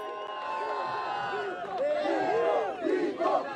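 A loud crowd shouts and cheers at a large political rally in Brazil ahead of elections, with voices rising in overlapping chants and whoops that swell toward the end. A continuous, dense roar fills the whole stretch.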